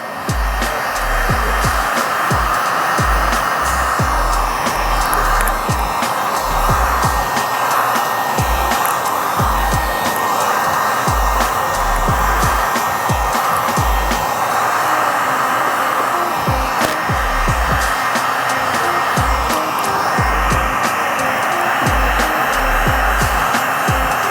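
A heat gun blows steadily while heating window tint on the curved rear windshield of a hatchback Mitsubishi Eclipse, a constant close airy whir with soft low thumps of handling underneath.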